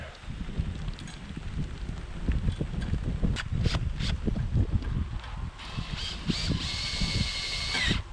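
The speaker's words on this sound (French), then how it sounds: "je vais venir visser Notre partie ici" A power drill driving long 5 by 45 screws into a workpiece, giving repeated whirring bursts with uneven stops and starts, close by and fairly loud over a busy background.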